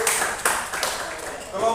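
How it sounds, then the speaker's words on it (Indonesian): Students in a classroom give a short round of scattered clapping, a few sharp claps standing out over a loose patter, with voices talking over it. "Tepuk tangan untuk kelompok bawah."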